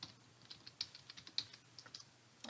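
Someone types a file path into a computer command line, producing quiet, irregular keyboard clicks in short bursts with brief pauses between keystrokes.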